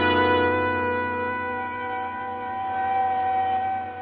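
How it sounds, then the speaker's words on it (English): An ambulance siren sounding as the vehicle pulls into a hospital receiving room in an old radio drama, a steady, loud tonal wail that holds throughout with a slight shift in pitch near the end. "The sound of an ambulance wheeling into the receiving room below shatters your train of thought."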